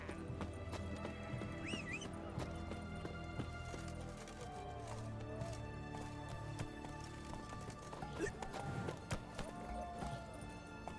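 A horse gallops with rhythmic clip-clop hoofbeats in the video game The Witcher 3, with a brief whinny over layered game music and ambient effects at moderate volume.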